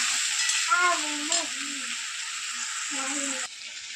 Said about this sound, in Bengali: দেখো এখানে চিকেন কষানো হচ্ছে দেখো কত সুন্দর কালারটা এসছে